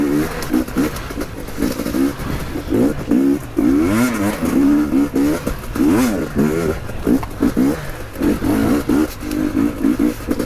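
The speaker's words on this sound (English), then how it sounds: "Bike's lovely, lovely and talky." A 2022 GasGas dirt bike engine revs repeatedly, rising and falling in loud, rough bursts close by, with a rider's voice coming through briefly.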